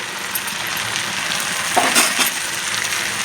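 Sour yogurt goes into sizzling kadai chicken in a wok, a bright, steady frying hiss close by with a brief swell and a light metallic clink partway through; no voices.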